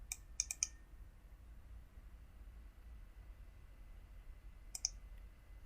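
Computer mouse clicks while working in Siemens PLC programming software: a quick cluster of three or four sharp close clicks, a long quiet pause, then one more click.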